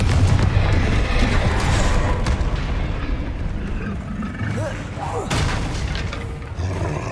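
Confringo blasting spell explosions in Hogwarts Legacy, heavy booming bursts and crackling blasts rolling close and loud, with a voice shouting over the action.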